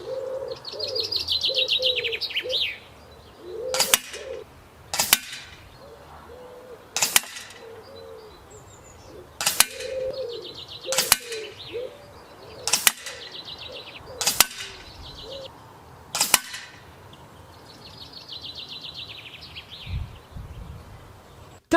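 A pistol fitted with an extendable twin-bar stock fires outdoors at a 40-metre target, about eight sharp, evenly spaced shots a couple of seconds apart, with birds chirping in the background.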